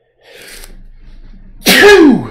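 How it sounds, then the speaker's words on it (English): A single loud, close sneeze bursts out after a brief quiet breathy intake, sharp and explosive before trailing off. "Oh man, I like sneezing."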